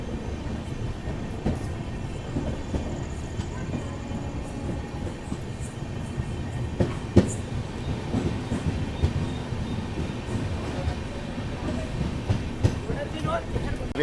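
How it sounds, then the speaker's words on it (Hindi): The Avantika Express rolls into a small, quiet railway station, a steady rumbling clatter of wheels on track with scattered sharp clicks and clanks from the passing coaches, continuous throughout. "गाड़ी लगभग 20 मिनट के आसपास डिले आई है अवंतिका एक्सप्रेस"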